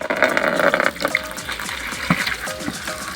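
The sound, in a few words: water filling from a tap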